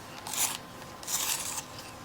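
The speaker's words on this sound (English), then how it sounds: "I'm going to sharpen it because it's very blunt." A very blunt Permanent Green Olive colored pencil is sharpened, giving two short dry scraping grinds close up with a pause between them and no talking.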